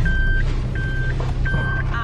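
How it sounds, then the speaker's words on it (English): A Suzuki Alto hybrid sounds its reversing beeps while being straightened in a parking spot, three evenly spaced steady tones over a low engine hum, close and clear. "I'm going to just straighten my car slightly, Andri."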